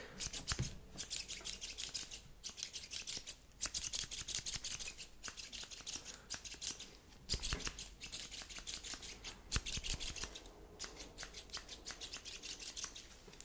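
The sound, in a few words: scissors snipping hair in ASMR haircut roleplay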